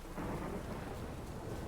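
A thunderstorm in The Witcher 3 rolls as a dense, continuous rumble of thunder mixed with heavy rain, steady and fairly quiet, with no voices.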